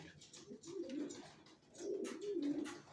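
Racing pigeons coo softly inside a loft, two low, rolling calls rising and falling over faint background noise.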